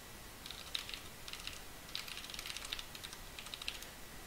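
Someone types a git command on a computer keyboard, a steady patter of light key clicks in short bursts over a faint background hiss, with no talking.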